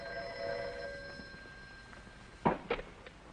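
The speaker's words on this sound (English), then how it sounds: "That was Ratka on the phone?" Old-fashioned telephone bell ringing in a radio drama, a sustained ring fading out, followed by a couple of faint clicks and knocks as the receiver is picked up.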